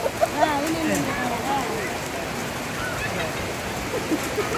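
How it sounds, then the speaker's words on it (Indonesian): Steady rain pattering on surfaces outdoors at a funeral gathering, a continuous soft hiss with scattered drops and voices talking underneath. "ini sudah ada hujan turun"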